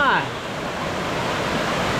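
Waterfall at Tat Sae falls near Luang Prabang, a steady broadband rush of falling water, loud and continuous, close by.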